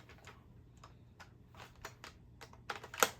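A magazine is ejected from a Siren Blink half-dart blaster, heard as a few light plastic clicks and taps that end in a sharper snap near the end, close by and fairly quiet over a faint low hum.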